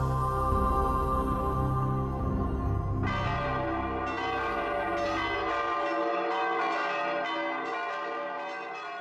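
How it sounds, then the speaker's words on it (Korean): Church bells ring over Florence, several bells pealing together in a sustained, resonant wash, loud and full, with one bell dropping out partway as higher tones keep sounding; no voices. "메마른 종소리가 피네체 시내를 진동하고 있었습니다"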